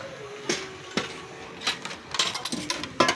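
Plates and dishes being handled while a family sits down to eat at home: scattered ceramic clinks and clatters, a few sharp knocks and a busier run of light taps near the end, fairly close, no talk.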